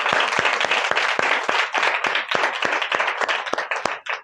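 A church congregation claps loudly during a Friday fasting prayer service, a steady stream of sharp hand claps in an irregular rhythm that thins out toward the end.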